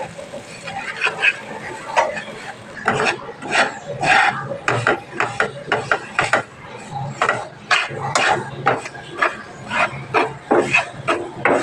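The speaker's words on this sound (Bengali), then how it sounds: "সুজিটাকে কিছুক্ষণ ভেজে নেব" Raw semolina, with crushed cardamom added, dry-roasting in a pan, heard as repeated scraping and rasping strokes of a spatula against the pan bottom in an uneven rhythm, close and fairly loud.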